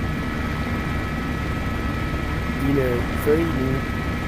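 Steady rotor and turbine drone of a helicopter in the X-Plane 12 flight simulator, a constant mid-loud hum throughout with faint tonal whines near the end.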